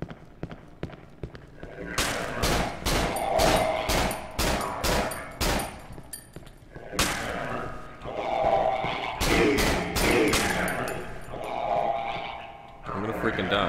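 Gunfire in the horror game Cry of Fear: loud, close, repeated shots in quick runs, pausing briefly and resuming, with a heavy thumping weight behind each burst.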